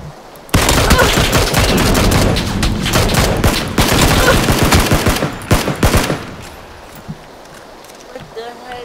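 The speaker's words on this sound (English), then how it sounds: "You missed like 5 sniper shots." Rapid bursts of gunfire from a PUBG match crack loud and dense for several seconds, then thin into scattered isolated shots with quieter gaps.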